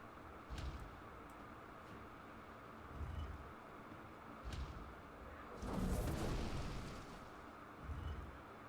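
Cannon blasts in a card video game: several dull, low booms at intervals, one longer rumbling burst in the middle, all fairly faint over quiet game ambience.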